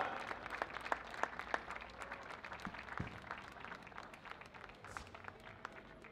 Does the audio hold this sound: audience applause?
yes